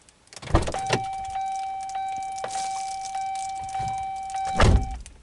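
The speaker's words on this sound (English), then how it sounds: "So I'm going to shut it off, turn my car off." A car being switched off with a touchscreen Linux radio fitted, a close thunk, then a steady electronic tone and faint clicks, ending in another thump.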